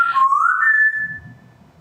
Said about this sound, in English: They like to whistle back and forth.